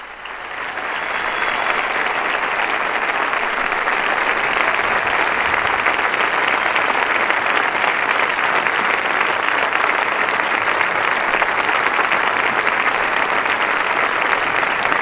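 A large crowd applauding Pope Francis at a World Youth Day university students' meeting in Lisbon, a dense, loud, sustained roar of clapping from many hands that swells in and holds steady.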